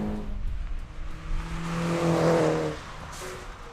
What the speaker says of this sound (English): The best part about driving this John Cooper's work Mini is the turbo on the engine.